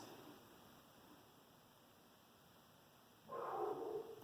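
A short burst of puppies yapping at a distance, breaking in after a stretch of quiet hiss.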